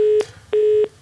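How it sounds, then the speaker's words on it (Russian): A dropped call on a live Russian TV call-in show leaves a disconnect tone: loud, steady electronic beeps of even pitch in long pulses separated by short gaps, with no talking. "Оборвался, к сожалению, звонок."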